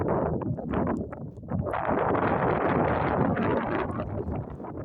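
Steady wind buffeting the microphone, a loud rumbling roar with gusts that swell and fade, no voices.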